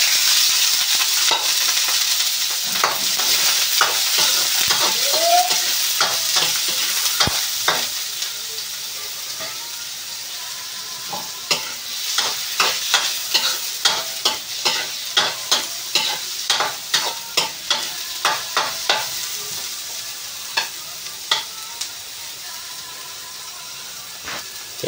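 Garlic and ginger sizzle steadily in hot sunflower oil while a utensil scrapes and stirs them, the clacks becoming rapid and regular in the second half.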